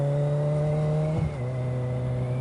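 Kawasaki Ninja 1000 ABS motorcycle held at steady high revs through a corner, a loud continuous engine drone with a brief dip and shift in pitch midway, close to the rider.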